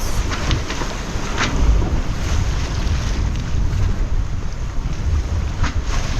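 Sailboat reaching in choppy water at about 15 knots of wind, a constant rush of wind and waves with heavy microphone buffeting and occasional splashes, loud and close throughout.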